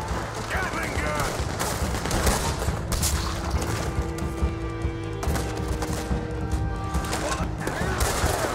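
Rapid Gatling gun fire in Red Dead Redemption 2, a dense, sustained burst of gunshots lasting throughout amid other in-game noise, with voices shouting over the barrage.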